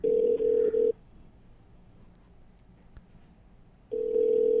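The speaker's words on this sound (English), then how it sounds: "we're going to go ahead and connect them together as soon as we get Gary on the phone" A telephone call is placed on a radio show: a steady ringback tone sounds in pulses, pauses into near silence, then returns loud and continuous.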